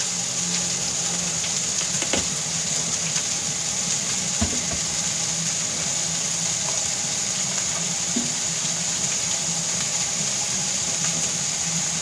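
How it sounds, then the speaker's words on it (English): Tap water running steadily into a sink while hands are washed during biscuit and sausage gravy cooking, a close continuous broadband rush with a few faint knocks and splashes and no talking. "Washing hands."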